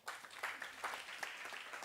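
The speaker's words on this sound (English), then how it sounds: "So another round of applause." Scattered applause from a town hall audience at a community engagement event in KwaZulu-Natal, faint and fairly distant, with uneven individual claps over a short stretch and no speech.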